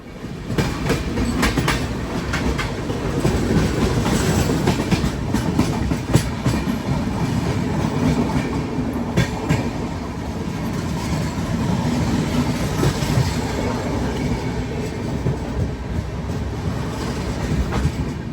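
Loud, continuous rumble of a moving train, the Lucknow–Raipur Garib Rath Express, with steady rhythmic clickety-clack of wheels over rail joints, heard from inside a carriage near Pendra Road station.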